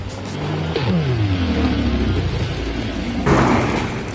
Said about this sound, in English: Those little crackles and bangs from the exhaust, it's got valves in it to make it sound good.